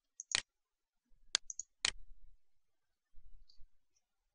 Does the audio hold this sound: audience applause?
no